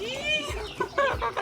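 A heavy turkey of about six kilograms, just caught in the Cagayan countryside of the Philippines, lets out a few short, close, raspy squawks in quick bursts.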